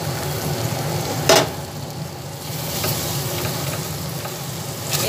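Boal fish pieces coated in batter fry in a pan, a steady close sizzle with the scrape of stirring over it and one sharp clatter early on.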